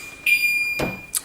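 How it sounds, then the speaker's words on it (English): An alarm sounds indoors with a steady high electronic tone that starts abruptly, followed by a sharp broadband clunk and a brief second chirp, all fairly loud and close. "that's the alarm"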